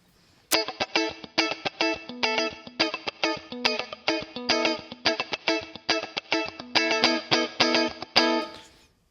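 An electric guitar plays through a Two Notes Genome with its compressors engaged, a dense, even run of distorted picked notes and chord stabs with a light reverb tail, loud and close after a short pause.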